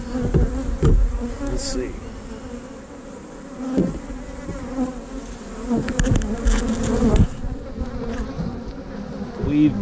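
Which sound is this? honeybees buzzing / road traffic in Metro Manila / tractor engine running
honeybees buzzing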